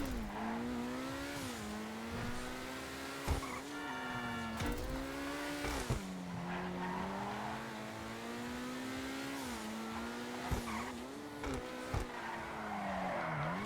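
Car tires skid and screech through a continuous, wavering squeal over a revving engine, with sharp bumps and impacts, as a performance car is driven hard in GTA Online.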